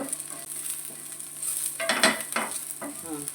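Garlic frying in a little oil until crispy, a soft steady sizzle that swells midway as it is stirred, with a few scraping strokes of a spoon in the pan.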